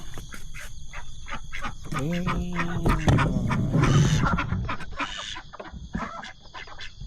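Ducks, chickens and geese call out together nearby, with clucking, quacking and honking overlapping in a busy, noisy village barnyard chorus in the morning.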